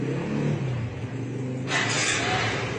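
Motorcycle engine starting up with an odd, strange noise, a steady close mechanical rumble that turns brighter and harsher partway through as the unusual sound cuts in.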